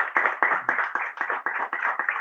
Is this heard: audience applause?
yes